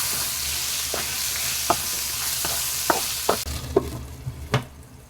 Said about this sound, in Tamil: இப்போ இதை நல்லா பெரட்டி விட்டுட்டு ஒரு மூடி போட்டு மீடியம் ஃப்ளேம்ல வாழைக்காயை வேக வச்சுக்கலாங்க